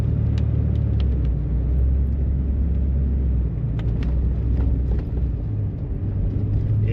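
A vehicle crawls slowly along a rough, unsalted road in Kanawha State Forest, West Virginia, after a storm, giving a steady low engine rumble with scattered knocks and clunks from the uneven surface, close and continuous without talk.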